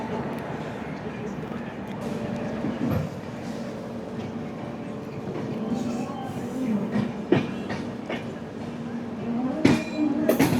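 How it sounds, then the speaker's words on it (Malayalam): A passenger train pulls in at platform 1 of Balharshah station with rumbling, clattering wheels and a few sharp clanks. People talk on the platform nearby. "നമ്മുടെ പേരന്റ് ട്രെയിൻ പ്ലാറ്റ്ഫോം നമ്പർ 1 വരുന്നുണ്ട്."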